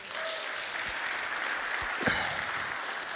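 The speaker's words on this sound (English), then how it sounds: "So give LMT a big applause." Steady, dense applause from a conference audience fills the hall at a tech event stage opening, sustained and even throughout with no pause.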